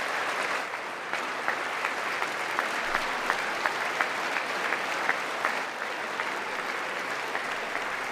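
An audience applauds during a political speech, a steady, fairly quiet wash of many hands clapping with a few sharper individual claps standing out, sustained without speech over it.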